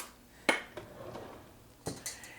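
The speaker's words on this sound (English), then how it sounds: "now I'm going to put my filling in my pie. I'm going to use a great big spoon for that" A big spoon clinks against a dish while blueberry pie filling is scooped into a lattice pie crust, with one sharp knock early, a softer tap, then scraping and another couple of clinks near the end.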